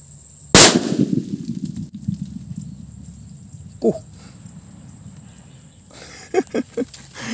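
A small homemade firecracker (paputok) goes off with one loud, sharp bang close by, followed by a fading outdoor echo and a few scattered later knocks and thuds.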